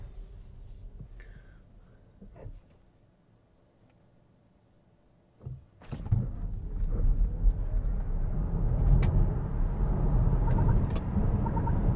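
Smart #1 Brabus twin-motor four-wheel-drive electric car accelerating hard from a standstill, a quiet cabin suddenly giving way to a rising, steady roar of road and wind noise that holds to the end.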